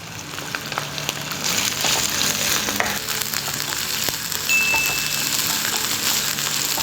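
Shallots, scallions and chili sizzle steadily in a hot pan for Korean-style fried rice, a continuous close crackling hiss with occasional light scraping and no talk.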